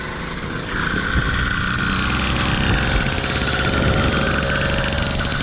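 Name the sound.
2-stroke engine running on a motorized bicycle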